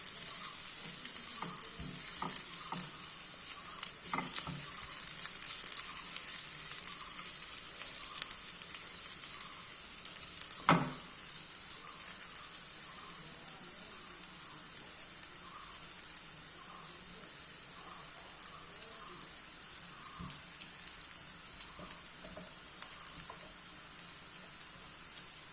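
Onions frying in a pan in a home kitchen, a steady bright sizzle running throughout with occasional soft stirring clicks and a brief louder clatter, no talk.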